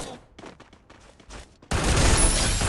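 Gunfire in the Free Fire mobile battle game: a few faint clicks and shuffles, then a sudden loud, dense burst of rapid automatic shots that runs to the end without pause.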